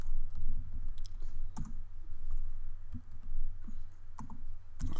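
Computer keyboard keys clicking intermittently during table editing in AutoCAD, a few sharp taps scattered over steady low background hum, close and moderately loud.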